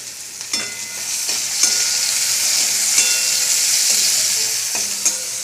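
Cumin, bay leaf and onion fry in a pan with a constant, close sizzle, broken by several scraping stirs of a spatula spaced through the clip.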